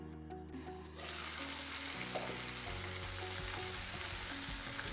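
Brinjal (eggplant) frying in a pan over a medium gas flame sizzles loudly and steadily once the lid shifts at the start, with a dense crackling hiss and low rumbling undertones continuing throughout.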